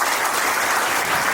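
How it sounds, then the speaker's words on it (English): A crowd at a school felicitation ceremony claps steadily, a dense, loud, unbroken wash of applause with no voices. "I want a clapping for them"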